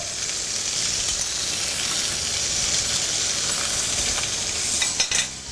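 Pork fillet, onion and apple brown in hot, lightly smoking oil in a frying pan, giving a loud, continuous close sizzle with a brief clink of a utensil near the end.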